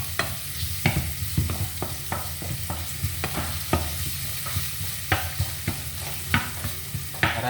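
A utensil stirs food being cooked in a pan in steady scraping strokes and taps over a soft ongoing sizzle, close and fairly even, with no talking.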